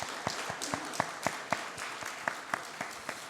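A church congregation stands and applauds during a Sunday worship service: a brief round of fairly soft, rhythmic, unison clapping heard at a moderate distance in a reverberant hall.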